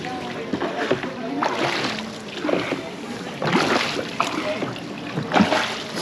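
Boat gliding across Dal Lake in Srinagar, Kashmir, with soft water sloshing and paddle splashes at a moderate distance, mixed with background voices and ambient lake noise throughout.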